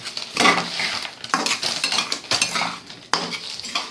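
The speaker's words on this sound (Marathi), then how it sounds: "आता मम्मी रवा भाजते" A metal spoon scrapes and clinks against a kadhai in repeated strokes stirring roasting semolina, close and fairly loud, with a faint sizzle underneath.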